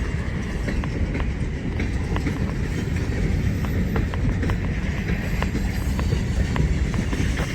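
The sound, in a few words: train wheels clicking over rail joints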